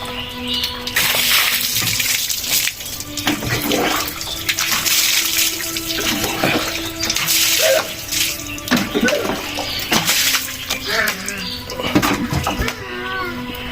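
Water splashes and pours in bursts close by while a goat is bathed with shampoo, with a voice and other chatter mixed in throughout.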